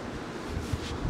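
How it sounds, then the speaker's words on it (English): Strong wind from Storm Isha buffets the microphone on an exposed coast where rods are set for sea fishing, a steady loud roar with gusty rumbling and no talk. "because that wind's got up really bad."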